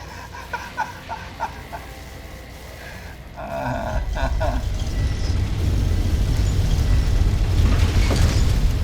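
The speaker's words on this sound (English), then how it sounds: "It sounded like an explosion." An explosion in Fallout: New Vegas swells into a heavy, sustained low rumble and roar that builds and stays loud to the end, following a few quieter scattered clicks and tones.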